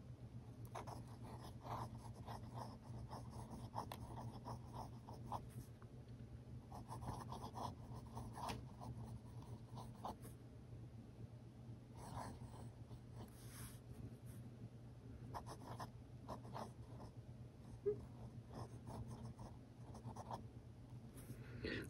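A fountain pen with a fine-looking nib that writes broad scratches across paper in soft, close strokes, quiet and continuous over a low background hum.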